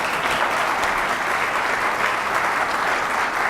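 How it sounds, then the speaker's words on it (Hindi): An audience at a Dastangoi storytelling performance applauding, dense continuous clapping filling the room at steady loudness with no talk over it. "आप ताली बजा सकते हैं"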